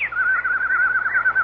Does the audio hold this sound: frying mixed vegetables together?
no